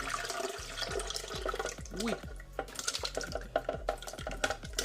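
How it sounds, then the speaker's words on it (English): Pumpkin, carrot and water poured into a blender for a Jamaican punch give a run of splashing, gurgling liquid with repeated plopping drips, fairly close, with a brief exclamation from a voice. "we're just gonna pour the pumpkin and carrot"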